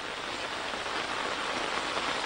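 Heavy outdoor rain at a temple at night makes a steady, even hiss of falling drops pattering on surfaces, close and unbroken, with no one talking.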